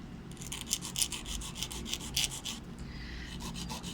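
A nail file works the free edge of a nail tip at an angle, giving a steady run of quick, close, raspy back-and-forth strokes that carry on alone without talk.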